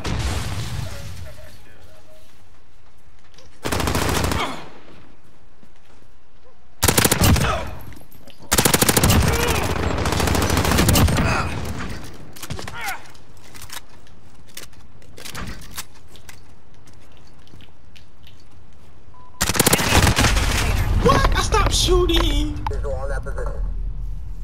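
Bursts of automatic gunfire and single shots in Call of Duty: Modern Warfare multiplayer, loud broadband blasts in several separate clusters, the longest and heaviest near the end, with voices chatting between them.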